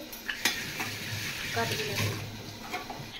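A spatula stirring chicken as it fries in a pan for chicken kosha, with close scraping and clattering strokes over a steady sizzle that continues throughout.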